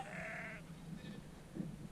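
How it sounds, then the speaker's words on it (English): Sheep resting on a pile of cool rocks bleat in a single clear call, followed by softer, fainter bleats and low background noise. "A lot of sheep chilling on the cool rocks."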